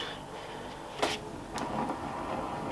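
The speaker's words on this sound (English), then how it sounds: "That's the sound of it running on the freewheel." A mountain bike's freewheel spins on a new drivetrain, a soft continuous ticking whir close by with a few brief clicks, no talking.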